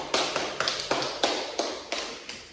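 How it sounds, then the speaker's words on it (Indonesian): Short bursts of classroom applause from a small group of students in a micro-teaching class, about eight rhythmic clap pulses spaced evenly, close and moderately loud with no talking. "Ibu beri aplaus."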